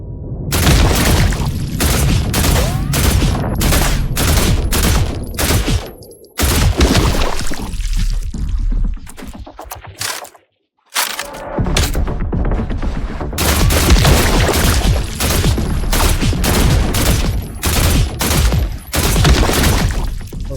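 Sustained rapid gunfire in the video game The Last Caretaker, loud dense bursts of shots with booming impacts, broken by a couple of brief pauses before firing resumes.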